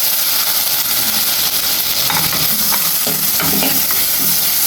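Slit green chillies and small tomatoes sautéing in a pan for Kerala-style egg curry, a loud continuous hissing sizzle close up, with stirring scrapes and knocks breaking through in the second half.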